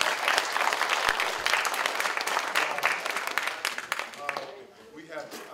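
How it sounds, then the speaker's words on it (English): An audience at an evening event claps for faculty in a loud, dense round of applause that thins out and fades near the end. "Y'all can give them a round of applause."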